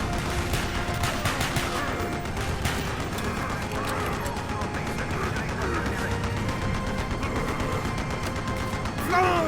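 Tower guns fire on soldiers in the Call of Duty Black Ops campaign, a continuous barrage of rapid gunfire and explosive crashes, loud and dense throughout, with shouted voices mixed in.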